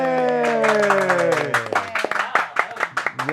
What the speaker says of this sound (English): That was a good cheer.